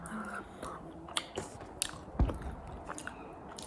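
Someone chews food close to the mic with soft, irregular bites and squishy mastication sounds, steady and moderately loud, with no speech.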